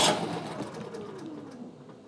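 A small engine on a motorcycle or ATV is cranked by an electric starter running from a lithium battery, giving a brief, strong whirring crank that fades over about two seconds.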